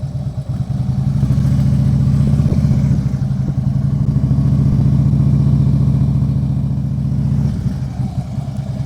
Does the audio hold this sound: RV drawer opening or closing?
no